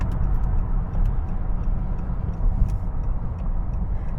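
A 2019 Honda Accord 2.0 Hybrid Tech accelerating, heard from inside as a steady, loud low road and drivetrain rumble with faint ticking above it, no talk.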